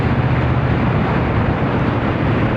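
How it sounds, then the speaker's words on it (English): Triumph Bonneville T120 motorcycle engine rumbling while riding, a dense steady low drone blended with heavy wind rush, loud and continuous. "It's got a nice quiet rumble, but you can still hear it over the wind"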